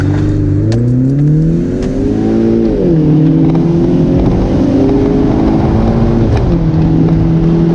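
A BMW 1 Series E88 120i M Sport accelerating hard from 0 to 60 mph in manual shift mode, its engine note climbing steadily in pitch with two clear upshifts that briefly drop the revs, loud and continuous with no talking.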